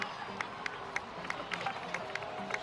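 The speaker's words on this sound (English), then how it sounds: "please give another round of applause for them" Steady crowd applause in Genshin Impact with scattered sharp claps, moderately loud and continuous for a few seconds.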